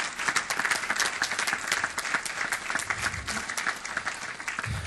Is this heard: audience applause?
yes